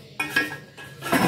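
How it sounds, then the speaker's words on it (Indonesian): Pandan sarang semut cake batter being stirred in a pot, with short clinking scrapes of a utensil against the pot in a few separate bursts, close and fairly quiet. "Kita aduk dulu sampai tercampur dulu."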